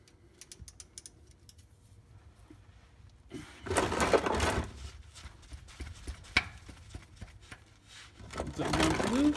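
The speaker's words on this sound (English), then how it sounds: "taking our 3/4 inch socket with a 3/8 drive ratchet, we're just going to put it on there" Ratchet with a 3/4 inch socket on a 3/8 drive working the oil drain plug of an NA Mazda Miata, a string of sharp metallic clicks and a loud crack as the plug breaks loose, close by with light handling noise.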